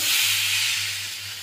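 Chopped tomato, chilli, ginger and onion hit hot oil with a loud, steady, bright hiss that fades slightly, over a low constant hum.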